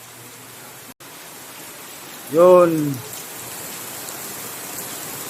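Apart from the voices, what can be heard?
rain falling outside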